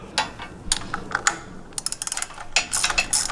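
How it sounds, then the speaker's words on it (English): A ratchet with a short extension tightening Dynatrac bump stop hardware on a Jeep Wrangler, heard close as quick bursts of crisp clicking with short gaps between strokes, without any voices. "it'd be helpful to have a ratchet with a short extension like you see here"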